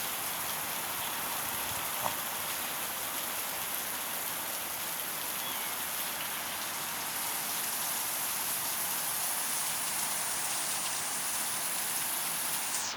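Heavy rain pours down in a steady, unbroken hiss, loud and close, pattering on surfaces throughout with no voices.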